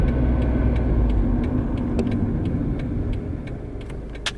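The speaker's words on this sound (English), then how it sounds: "So clutch all the way in, brake on." A manual-transmission car slows to a stop under braking, a steady low engine and road rumble easing off while faint clicks and ticks sound from the cabin, with no talking.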